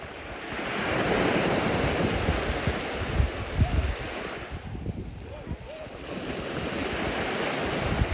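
Waves roll in on Templetown Beach on the Irish coast as a constant broad surf roar, mixed with gusty wind buffeting the microphone, close and fairly loud throughout.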